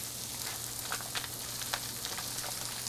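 Eve's Veggie Ground Round sizzles in a hot pan, a steady, close frying hiss with small crackles and pops throughout.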